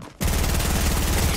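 Rapid automatic gunfire from a shooter game breaks out after a brief quiet moment and keeps going as a dense, loud, continuous burst to the end.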